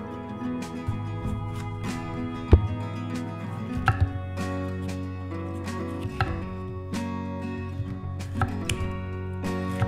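A knife chops red bell pepper strips into large squares on a board, a run of sharp, close taps at an irregular pace over a steady hum of background music.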